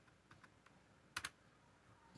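Quiet, close keystrokes on a computer keyboard while typing a command into the Windows command prompt, a few scattered taps then a quick louder double clack.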